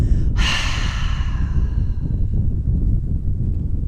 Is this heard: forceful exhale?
yes